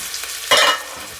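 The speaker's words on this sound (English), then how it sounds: "we're going to saute that for about 2 minutes" Diced onion and minced jarred garlic sautéing in oil make a faint crackle that suddenly swells into a loud, bright hiss for about a third of a second before settling back to a soft sizzle.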